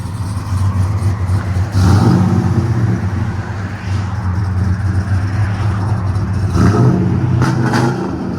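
A cammed Chevy 5.3L V8 with headers and a Flowmaster 50 exhaust rumbles with a lumpy idle, then revs up sharply a couple of times, each blip swelling loud before settling back to the choppy burble.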